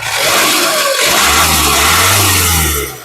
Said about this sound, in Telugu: ఒకసారి ఇంజన్ యాక్సిలేటింగ్